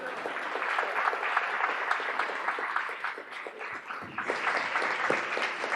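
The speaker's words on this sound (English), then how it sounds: "So you've applauded me first" An audience fills a conference hall with steady, dense applause after a keynote at the CCES 2023 event. The clapping runs continuously at a fairly even loudness, with a brief dip partway through, and no one speaks over it.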